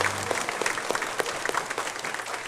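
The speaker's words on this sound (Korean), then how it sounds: "하나님께 감사의 박수 한번 크게 올려드리겠습니다." A church congregation applauds in thanks to God during a service, a loud, sustained burst of many hands clapping close by with a few scattered voices mixed in.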